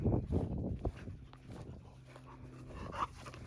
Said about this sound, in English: They're barking at the horses again.